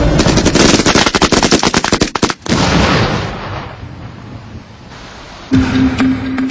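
Light machine gun fed from a 200-round box magazine, firing at about 850 rounds per minute: loud rapid bursts close by, a brief pause, then further fire and a sharp sustained tone near the end.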